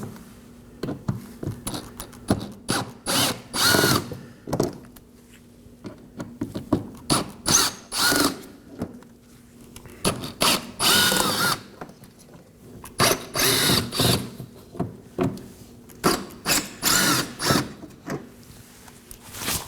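Power drill driving out five T15 Torx screws inside the wheel well of a 2018-2024 Chevrolet Equinox, heard as loud repeated whirring bursts with short pauses and ratcheting clicks between them.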